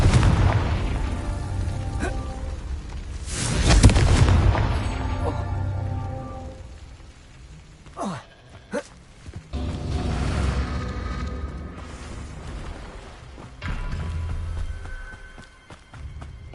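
Confringo fire spell explosions in the Hogwarts Legacy video game: a heavy boom near the start, then a couple of sharper blasts in the middle, over a steady game soundtrack bed.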